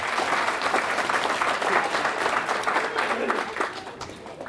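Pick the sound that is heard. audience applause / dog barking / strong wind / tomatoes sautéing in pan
audience applause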